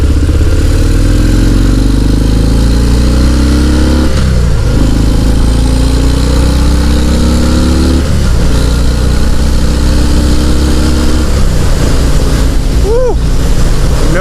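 A 2019 Harley-Davidson FXDR 114 accelerates on the road, its loud, deep engine rumble climbing through gears with pitch rising and dropping at each shift, wind rushing past the rider throughout.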